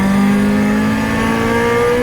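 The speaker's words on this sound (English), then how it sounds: "Here's a third gear pull starting at 60 miles per hour." A widebody Honda Civic pulls hard in third gear from 60 mph, its engine note loud, steady and rising throughout, heard from the cabin with no talking.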